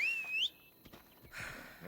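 A sharp rising-and-falling whistle calls a horse in Assassin's Creed Odyssey, a short melodic tone alone at the start, followed by quiet ambient rustling and a faint swelling background.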